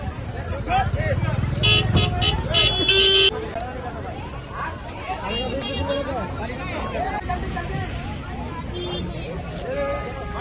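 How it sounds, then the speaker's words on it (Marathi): Crowded scene at a busy fish market with heavy traffic, where a loud babble of voices mixes with engines and repeated sharp honking horns. The horns cluster early on, and people talk close by throughout. "बापरे बापरे बापरे, काय बाजार चाललाय."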